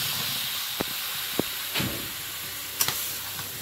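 Pumpkin and potato pieces added to fried spice paste for a Bengali pumpkin curry, giving a steady soft hiss of sizzling oil with a few sharp clicks and clatters as pieces drop in.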